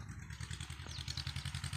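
A white tractor's diesel engine chugs nearby in a field during maize sowing, a steady, rhythmic low thump, running at an even idle throughout.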